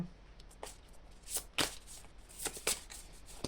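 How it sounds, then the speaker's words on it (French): A card is drawn from an oracle or guidance card deck during a spiritual reading: soft, close, papery slides and flicks come in several short bursts, with no talking. "J'ai envie de tirer une autre carte."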